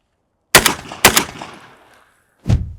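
Shotgun fired rapidly at a target during instinctive shooting practice: two loud, sharp blasts about half a second apart, each trailing off, followed by a third shot after a short pause.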